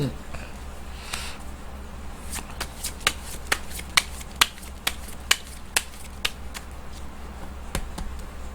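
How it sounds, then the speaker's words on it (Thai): A deck of tarot cards is shuffled during a fortune reading, producing a run of sharp, close riffling snaps and flicks with irregular spacing over a quiet, low background hum. "เดี๋ยวจะมาเสี่ยงไพ่ยิปซีดูให้เพิ่มเติม"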